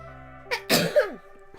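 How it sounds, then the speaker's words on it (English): A single close, sharp sneeze with a quick intake of breath before it, over steady background game music tones. "I had to sneeze."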